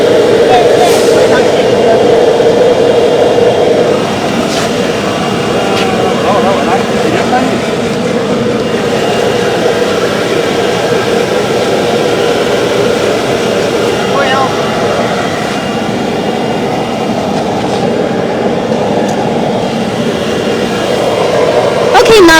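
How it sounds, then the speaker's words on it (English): An 820RC remote-controlled grinder runs on a project site, a loud, continuous droning roar with steady mechanical rumble and faint whining overtones held for over twenty seconds without letup. "now you see the machine is grinding"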